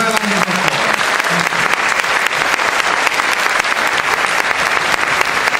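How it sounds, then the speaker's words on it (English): Applause for the sponsor, PepsiCo Research and Development, at the opening ceremony of a tri-county science and technology fair: many hands clapping in a dense, steady patter, with a voice briefly audible at the start. "let's give them a round of applause"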